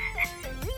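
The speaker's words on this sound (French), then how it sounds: "Une grenouille! Vous voyez la grenouille?" A single short frog croak, close and clear, with a rising, twanging tone lasting under a second, heard alone over a steady background hum.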